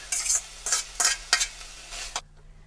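Drained ground beef is stirred in a skillet, about five rhythmic scraping strokes with faint sizzling underneath, then the sound cuts off.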